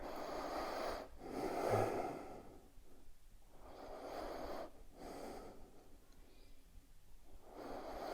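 Slow, audible breathing during a yoga eagle pose held for three breaths, soft rhythmic inhales and exhales close to the microphone with quiet pauses between them, no talking.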